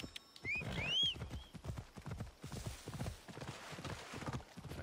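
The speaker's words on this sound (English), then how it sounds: "Oh, my horse!" A horse trots in Assassin's Creed Odyssey, its hooves clip-clopping in a steady, close rhythm, with a brief whinny near the start and faint ambient game sound.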